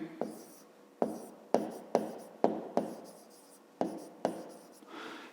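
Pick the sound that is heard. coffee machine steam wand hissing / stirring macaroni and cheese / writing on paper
writing on paper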